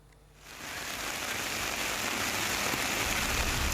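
Steady rain pours beside a railway track in Rawabuaya, West Jakarta, a dense, even hiss of falling water that swells in after a brief quieter start and continues without pause.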